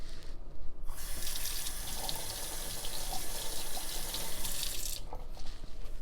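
Tap water runs steadily into a sink as a chopping board is rinsed beneath it, a close, hissing stream that starts within the first second and stops near the end.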